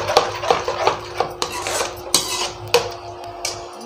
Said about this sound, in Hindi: अब इसको थोड़ा सा डाल के भूनूंगी मैं अपने मसालों को।